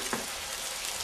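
Sliced chorizo sizzles in a pan for a Portuguese breakfast, a steady, close, bright crackle with no talking.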